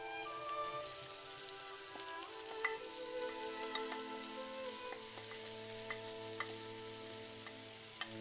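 Potatoes and onions sizzle steadily in a pan, a continuous close crackle and hiss with occasional small pops and no voices.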